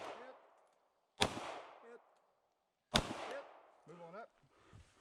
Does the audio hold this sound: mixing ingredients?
no